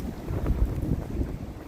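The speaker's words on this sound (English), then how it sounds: "Bit windy out here today climbing trees." Wind blows through trees during tree climbing in snowy conditions, a steady low rushing buffet with microphone wind noise close up and no talking.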